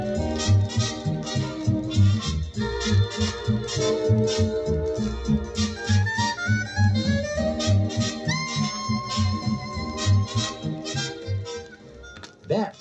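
Big band swing music plays continuously, with brass and rhythm section driving a bouncy beat at a steady, moderate loudness.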